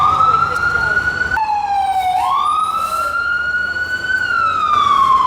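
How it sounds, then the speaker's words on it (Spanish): Emergency vehicle siren wailing loudly through a city street, its pitch sweeping up and down in a continuous rising and falling tone with faint traffic noise underneath. "Y atrás la sirena, como les decía, que hay muchas sirenas todo el tiempo"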